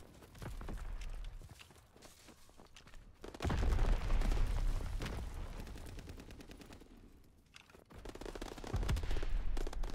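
Video game gunfire in a competitive shooter match, bursts of rapid automatic fire and dense clattering shots in two long stretches separated by a quieter lull, loud and close, with no talking.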